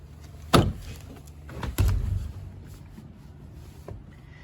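Two sharp plastic pops about a second apart as clips pop off a 1994-1996 Chevy Caprice door panel, followed by a quieter click, close by in a quiet room.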